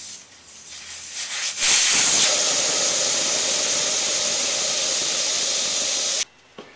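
A loud, steady hiss of air rushing out of a BMW F650 motorcycle tire valve with the valve core pulled. It starts suddenly, holds for about four and a half seconds, then cuts off abruptly.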